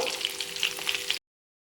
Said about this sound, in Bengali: বাকি চপগুলো একইভাবে ভেজে নিয়েছি দেখুন ভাজা হয়ে গেছে এবার আমি তুলে নেব